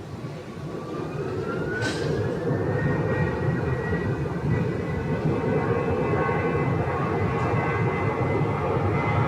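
An American Airlines jet departs Phoenix airport, a steady loud engine roar with a rising whine near and continuous throughout, no talk.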